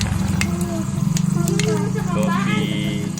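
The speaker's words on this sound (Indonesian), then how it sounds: "Aku mau masak ayam." Chicken frying and sizzling in a pan at home, a steady crackling hiss running beneath continuous voices talking nearby.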